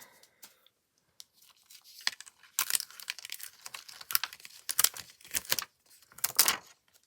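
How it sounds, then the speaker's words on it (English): Tape peels off a handmade decorative card in short crackly strips, quiet and close, with several separate rips and crinkles that grow denser toward the end. "So we can take tape off."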